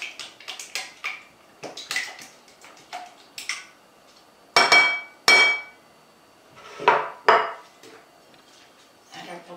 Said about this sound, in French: Pour qu'elle se mélange à la crème, je vais mélanger un peu comme ça